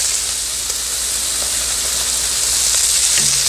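Ghee sizzles steadily on a hot Blackstone griddle beside sous vide steaks, a loud, close, continuous frying hiss with faint small pops and no talking.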